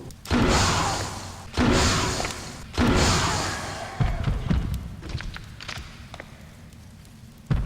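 Acid rounds from a grenade launcher striking the Regis Licker boss in Resident Evil Outbreak: three loud, heavy thudding impacts at roughly even intervals, each fading into hissing, followed by fainter knocks and movement.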